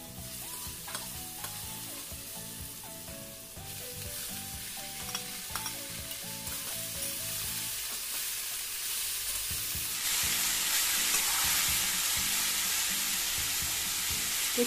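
Vegetables frying and being stirred in a pan for a vegetarian thali cooked without onion or garlic, a continuous close sizzle with scraping stir strokes that grows louder and brighter near the end.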